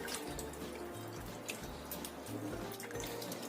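Shrimp and chicken are rinsed in water, giving soft continuous sloshing and dripping close by, fairly quiet and steady throughout.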